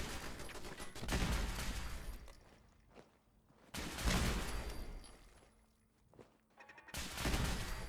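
Turrets in Fallout 4's Nuka World open fire in three long, loud bursts of rapid gunfire, each separated by a brief lull, with no talk.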